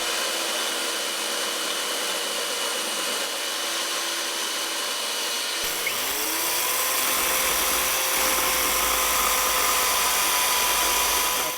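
Small side grinder fitted with a 4.5 inch disc cutting into a log for a stair handrail: a steady, loud high whine that drops in pitch and turns rougher as the disc bites into the wood, running without a break.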